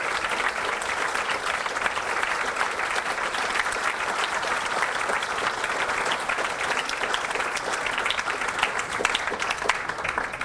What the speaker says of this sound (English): Please give them a round of applause now to show appreciation